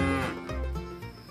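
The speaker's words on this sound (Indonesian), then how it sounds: "Wow, ini kerbau." A water buffalo gives one drawn-out, loud low moo that holds steady for over a second, close up and alone with no talking.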